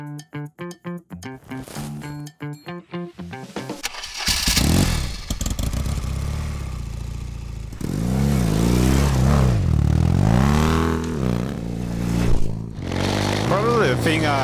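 A BMW R80 GS motorcycle engine revs and rumbles loudly, with clattering at the start and a steady, rising drone that continues through the rest.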